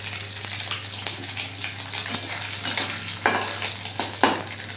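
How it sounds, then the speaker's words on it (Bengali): Grated coconut frying in a pan for a Bengali chhanar kalia, a steady close sizzle running the whole time with scrapes and stirring clatters of a utensil against the pan, louder stirring bursts near the end. "নারকেলের কুচিটা ভাজতে ভাজতে"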